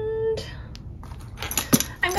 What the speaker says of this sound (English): I'm gonna put my keys there actually as well.